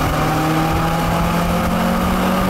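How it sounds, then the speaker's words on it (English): VW Lupo GTI with its stock exhaust accelerating, a loud, steady, close-up engine drone with a rising tonal note and heavy broadband roar throughout, no talking. "It even sounds pretty good too, this stock exhaust."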